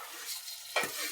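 Marinated mutton drops into a hot pan for Kolhapuri mutton, giving a sudden burst of close sizzle over a steady background hiss, alone without talk.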